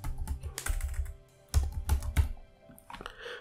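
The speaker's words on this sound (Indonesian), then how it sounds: "kita ketikkan jumlah di sini" Keys clatter on a computer keyboard while numbers and labels are entered into an Excel spreadsheet for a Pareto chart, coming in two quick close bursts of rapid taps separated by a short pause.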